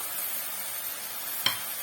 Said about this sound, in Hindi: प्याज ऐड कर दें।